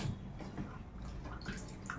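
Drumstick pods are washed by hand in a wok holding clean water, with soft splashes and drips coming in irregular bursts close by, quiet and alone.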